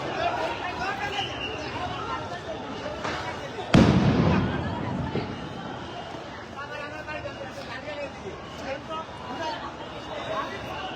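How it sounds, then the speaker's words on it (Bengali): A police sound grenade explodes with a single loud, sharp blast amid a clash with protesters at Shahbag, followed by a lingering roar of crowd noise and commotion throughout. "পুলিশ কিন্তু আন্দোলনকারীদের ছত্রভঙ্গ করে দিতে একের পর এক সাউন্ড গ্রেনেড নিক্ষেপ করছে।"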